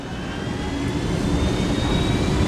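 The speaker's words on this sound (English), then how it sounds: "Ooh, we got a hell of a chopper." Helicopter engine in Ghost Recon Wildlands, a steady loud rotor and turbine roar with a faint high whine, continuous throughout without speech.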